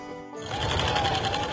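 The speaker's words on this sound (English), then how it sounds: "If Campbell could be on that sewing machine 24/7, he would." Campbell's sewing machine starts up and runs with a fast, even mechanical whir and rhythmic needle chatter, close and steady after a brief quiet start.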